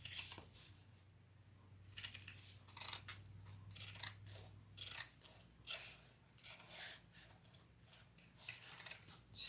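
Pinking shears cut through fabric for a small crossbody bag, a close, crisp run of rhythmic snips arriving in quick bursts with short pauses between them, no talk.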